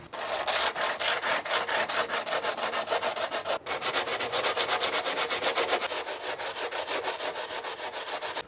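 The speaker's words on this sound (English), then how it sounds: "first I'm going to sand this down and try not to destroy the board" Steady, rhythmic back-and-forth rasping of sanding discs working the epoxy-repaired rail of a surfboard, close and loud, continuing without pause apart from one brief break.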